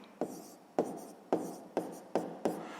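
Pen writing on paper during a sixth-grade maths exercise, five or six short scratchy strokes in a regular rhythm, close and quiet, with no voices.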